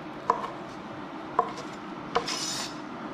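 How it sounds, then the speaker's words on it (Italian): An octopus is chopped into large pieces on a wooden cutting board, producing three sharp knife knocks spaced about a second apart, followed by a short scraping sound. "Adesso prendiamo il nostro polpo, lo tagliamo a pezzettoni."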